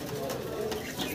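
A pair of racing pigeons cooing close by in a low, soft, continuous warble, brief and steady with no voices.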